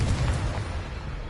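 A single deep, rumbling blast from the Confringo blasting spell in Hogwarts Legacy, loud at first and decaying over about a second with no talk over it.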